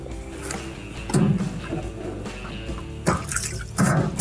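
Leftover water trickles and splashes from the drain pump hoses of a Maytag washer into a towel, a steady close pour with a few louder gushes.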